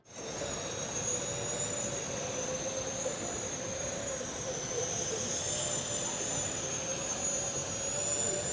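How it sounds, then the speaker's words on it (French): A drone carries a robot vacuum upstairs at a tech trade show, giving a steady, close whirring hum with a sustained high tonal whine that holds level and unbroken throughout, with no voices. "C'est le transport du robot aspirateur à l'étage via un drone héliporté."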